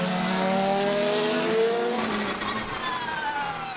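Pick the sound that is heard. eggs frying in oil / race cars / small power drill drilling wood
race cars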